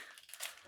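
Dogs barking outdoors in the distance, a short faint yip or bark rising briefly over a quiet room, with no talk over it.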